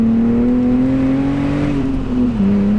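A BMW Z4 running with the roof down gives a loud, steady engine drone with wind rush, and the pitch rises gently before dropping as the gear changes.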